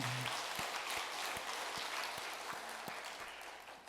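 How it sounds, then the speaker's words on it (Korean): Church congregation applauding during a Sunday worship service, a steady wash of many hands clapping at moderate distance, fairly even throughout. "하나님께 영광의 박수 올리겠습니다"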